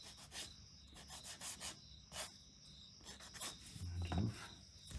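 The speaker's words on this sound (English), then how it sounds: "Take some more sandpaper." Sandpaper rubs a leather dog craft piece in rhythmic back-and-forth strokes, quiet and close, with a short scrape near the end.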